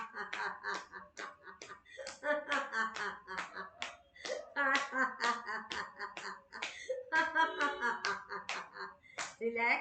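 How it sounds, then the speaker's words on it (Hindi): Rhythmic hand clapping mixed with bursts of group laughter during a laughter yoga exercise, the claps and hearty laughing repeating steadily and close throughout. "ढोलक ताली बजाते हुए हंसेंगे"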